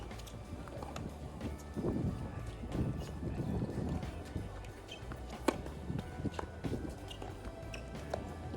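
Gusty wind buffets the microphone outdoors on a tennis court, a steady low rumble with swelling gusts and occasional thumps, loud and close throughout with no talk.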